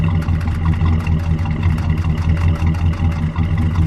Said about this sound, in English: Let me let it just idle for a second.